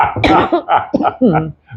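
A few quick, close coughs in a rapid burst, followed by a short pause and one faint final cough.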